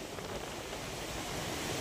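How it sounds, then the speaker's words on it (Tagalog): Big ocean waves surge into a beachside resort, a loud, continuous roar of rushing surf and water lasting about two seconds, with wind noise on the microphone and no voices. "Oh, laki ng alon, guys."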